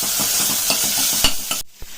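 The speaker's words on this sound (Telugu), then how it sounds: "ఈ అల్లం వెల్లుల్లి పేస్ట్ కొంచెం పచ్చివాసన పోయేంత వరకు ఫ్రై చేసుకోవాలి." Onions fry in a pan with turmeric and ginger-garlic paste for rajma curry, a close steady sizzle broken by quick rhythmic stirring scrapes that cut off abruptly near the end.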